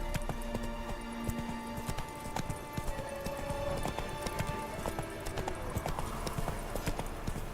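A horse gallops in The Witcher 3 video game, quick rhythmic clip-clop hoofbeats running steadily throughout, with game music and effects underneath.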